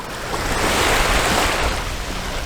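Ocean waves wash onto a beach at a resort. The surf makes a loud, continuous roar of broadband noise that swells gently, with some wind, and no voices.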